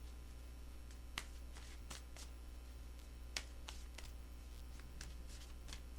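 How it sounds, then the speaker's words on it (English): Tarot cards being shuffled close by, quick riffling bursts and soft flicks repeating over several seconds, with no talking. "Two more shuffles."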